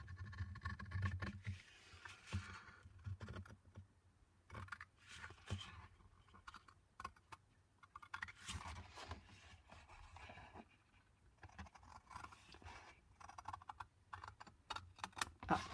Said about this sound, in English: let's take our scissors, and we're just going to cut this